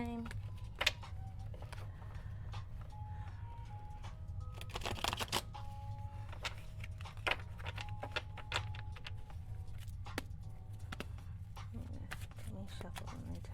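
Tarot cards being shuffled by hand during a reading, soft papery riffles and taps, quiet and close against a low steady room hum, with a few sharper clicks and no talk.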